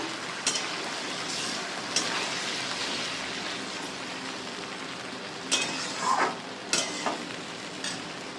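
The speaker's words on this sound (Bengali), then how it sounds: "আমি ম্যারিনেট করা চিকেনটাকে ভেজে দিলাম" Marinated chicken frying in a pan for fennel chicken, a steady close sizzle with a few louder crackles and clinks of stirring scattered through, no talking.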